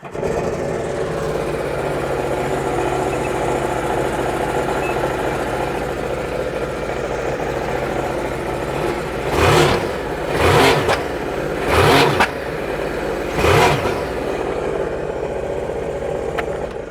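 A 2020 Sea-Doo RXT-X RS jet ski engine on a cold first start out of the water, idling with a steady loud drone and then four sharp revving blips that rise and fall in quick succession.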